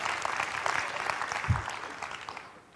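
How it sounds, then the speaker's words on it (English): A keynote audience claps in a dense, steady burst of applause that fades out near the end. "I don't know why you guys are clapping about that."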